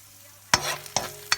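Celery, bell pepper and chili hit a hot pan for a stir-fry, giving three sharp sizzling bursts, each followed by a brief crackling hiss, close and alone.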